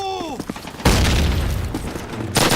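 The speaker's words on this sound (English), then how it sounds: "I heard a grenade" A grenade blast booms loudly in the video game Call of Duty, a sudden heavy explosion that rumbles and fades, after a few brief preceding sounds, with another burst hitting near the end.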